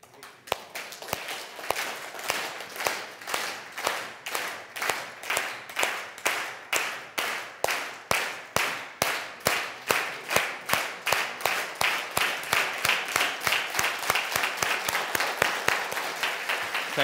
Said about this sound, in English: Can you clap? How will we clap?